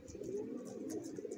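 Pigeons cooing near a keeper handling newly bought and caught birds, a soft low murmuring coo running continuously with faint higher chirps above.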